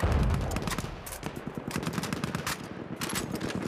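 Rapid gunfire from old-era weapons in the Battlefield 1 open beta, a dense, continuous stream of loud shots and bursts with overlapping battle noise throughout.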